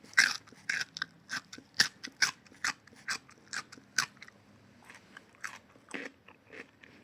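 Someone bites and chews a crunchy home-grown vegetable harvested from a small container garden pot, giving a steady run of sharp, close crunches, loud at first and fading softer toward the end, with no talk.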